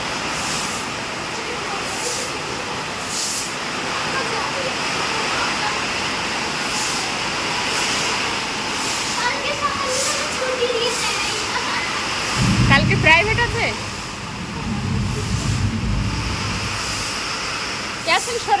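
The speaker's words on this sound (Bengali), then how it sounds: "উত্তর সাইড থেকে বৃষ্টি আসছে" Steady heavy rain pours down with a dense hiss, while voices talk over it and a deeper rumble swells briefly partway through.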